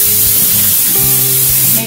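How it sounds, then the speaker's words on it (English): Olive oil non-stick spray hissing into a lasagna dish, a loud close continuous aerosol spray for about two seconds with faint low background hum, no voices. "I'm going to spray it with some olive oil non-stick spray."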